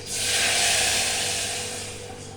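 A glass of water poured into hot oil with popped mustard seeds, curry leaves and green chillies for mango kadhi, bursting into a loud, steady steam hiss that slowly fades.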